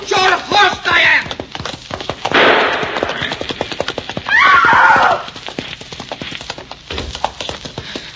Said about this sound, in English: If you don't stop, I'll shoot. I will shoot your horse, Diane!